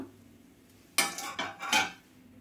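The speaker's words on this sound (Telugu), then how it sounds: "చూడండి, ఆయిల్ కూడా ఒకసారి ఇట్లా కలిపేసుకోవాలండి." A spoon scrapes and clinks against a bowl in three quick close strokes, mixing hot oil into a crispy snack mixture after a quiet moment.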